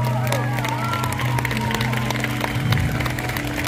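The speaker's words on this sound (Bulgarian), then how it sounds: "Не, заслужава много повече аплодисменти" Concert audience applauding for a singer on stage, a steady dense wash of clapping and crowd noise running throughout, with a voice over a music-like sustained tone underneath.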